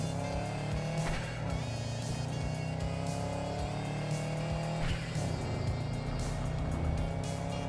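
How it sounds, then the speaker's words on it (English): In the video game Road to Liberty: New Horizon, a car engine drones and revs steadily, broken by two short hissing bursts of turbo blow-off as the gears change. "It's got the cutoff on the turbo now. You can hear it go kss."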